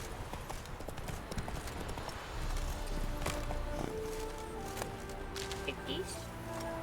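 Horse hooves clip-clop in a steady walking rhythm while riding in The Witcher 3 video game, close and continuous, with a voice talking over them.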